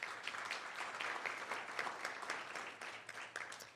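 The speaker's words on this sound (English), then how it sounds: "Let's give him a round of applause as well." Applause from an audience at a county board meeting, a steady wash of many hands clapping at moderate distance, with a low hum beneath and no talk.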